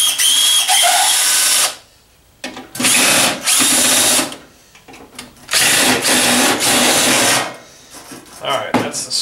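A power driver whirs in repeated bursts while removing the motor screws inside a bread maker, loud and close with short pauses between runs.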